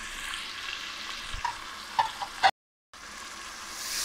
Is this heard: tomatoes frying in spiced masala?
yes